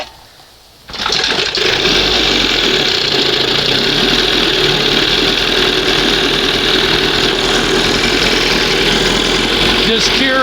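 A 1971 Johnson 20 HP outboard motor fires up after a quiet second and runs loud and steady at close range, with a constant buzzing drone that continues to the end.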